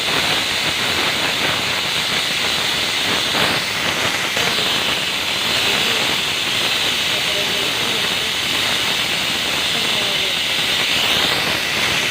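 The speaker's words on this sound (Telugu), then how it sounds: "కొంచెం 2-3 విజిల్స్ వచ్చేంత వరకు ఉంచుకున్నాం" A pressure cooker whistle, cooking mutton and mango curry, lets out a continuous loud hiss of escaping steam that runs unbroken and steady throughout.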